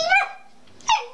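A puppy gives two short, high yelping barks about three quarters of a second apart, close and fairly loud, with a quiet indoor room in between and no one talking.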